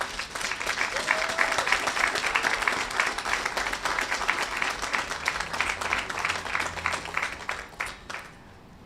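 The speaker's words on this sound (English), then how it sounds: "Please join me in giving them a round of applause." Sustained applause from a large crowd at a university departmental graduation ceremony, steady dense clapping that carries on for several seconds before thinning out at the end.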